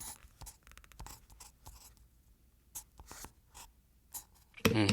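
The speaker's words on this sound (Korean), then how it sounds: "여기에 또 연필로 끼적이는 소리를 제가 또 굳이 또 땄답니다" Pencil scribbling on paper used as a film sound effect, a run of quick scratchy strokes in irregular bursts with short pauses between them, ending in a sudden loud burst of noise.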